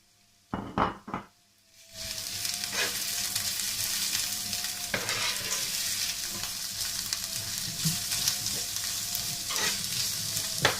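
Onion sizzles steadily in a pan for lasagne as grated carrots go in, a few sharp clatters of the addition first, then a continuous frying hiss with occasional spoon scrapes and stirring.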